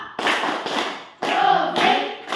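A school class at SMP 11 in Indonesia claps a rhythmic pattern together, bursts of clapping in two groups separated by a brief pause, fairly close and loud.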